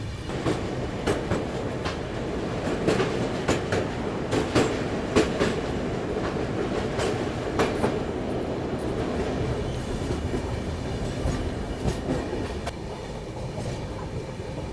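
Passenger train rolling along rails through fields near Thiruvalli railway station, heard from aboard: a steady loud rumble with repeated clickety-clack wheel beats and occasional sharp rail clicks, no talking.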